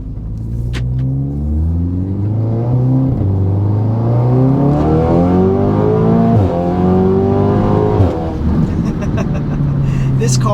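A highly modified Audi S3 running on E85 pulls hard along a rocky back road, its engine climbing through rising revs in long accelerating sweeps with gear changes, loud and close from inside the car.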